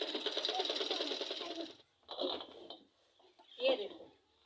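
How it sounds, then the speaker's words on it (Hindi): A sewing machine stitches a shirt in a village home, running in a steady, fast rattling whir, then stopping and restarting in shorter bursts, with faint birds or chickens nearby. "तो हुण मैं लगी हाँ कमीज़ नूं सिलाई लाण"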